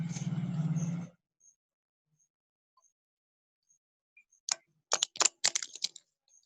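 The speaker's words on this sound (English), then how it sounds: "Now I'm gonna give it a shuffle." A quick burst of crisp papery riffling and snapping clicks from a riffle shuffle of a deck of cards, close and fairly loud, following a brief bit of speech and a pause.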